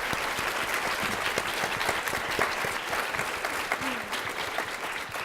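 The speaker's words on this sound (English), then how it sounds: "Let's give them a round of applause." Sustained applause from a conference audience for a panel after a discussion on ethics and human rights in technology design, a dense, steady wash of many hands clapping with no talk over it.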